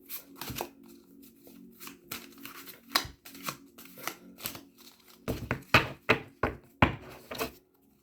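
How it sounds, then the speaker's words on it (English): Irregular bursts of papery riffling and soft taps as a deck of tarot cards is shuffled, close and fairly quiet, with a denser run of sharp flicks toward the end. "Shuffle a bit."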